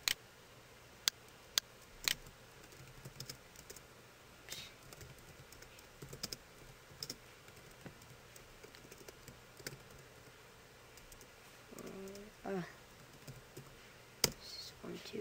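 Someone types a label into a Visual Basic 2008 form on a computer keyboard, giving faint scattered key taps and clicks with a short quicker burst near the end, quiet and close, with no talk.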